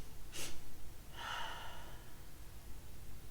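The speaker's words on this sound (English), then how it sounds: "3 little sniffs of air." Someone takes quick sniffs of air through the nose during a yoga focus breathing exercise. A sharp intake comes first, then a longer breathy inhale, close and fairly soft over a quiet room, with no speech.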